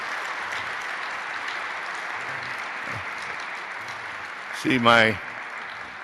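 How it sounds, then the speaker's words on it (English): Folks at a leadership and public policy forum give a soft, continuous wash of applause that hums steadily in the background, and one brief spoken word cuts through near the end. "That's an applause line"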